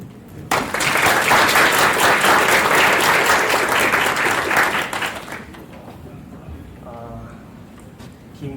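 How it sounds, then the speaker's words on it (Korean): Large audience applauding after a keynote talk at UbuCon Korea, loud sustained clapping for several seconds that tapers off into a quieter room with a brief voice near the end. "다시 한번 큰 박수로 맞이해 주시기 바랍니다."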